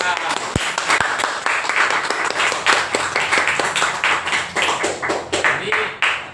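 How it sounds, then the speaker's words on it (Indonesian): Classroom applause for a student, a group of people clapping in distinct, fairly loud, close hand claps that keep an uneven rhythm throughout, with a couple of sharp taps near the start. "Tepuk tangan untuk Dewi."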